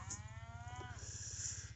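Cattle on a farm, cows and calves near a fenced pasture and bridge, give a single drawn-out, falling moo at moderate distance against steady low background noise.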